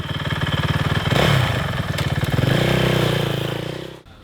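A motorcycle engine runs close by with a steady pulsing throb, rises briefly in pace and then settles back before cutting off abruptly near the end.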